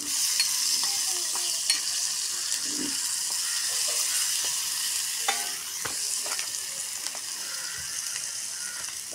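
Spices and tomato frying in a pan, a bright continuous sizzle with intermittent scrapes and clicks of stirring, close and steady throughout.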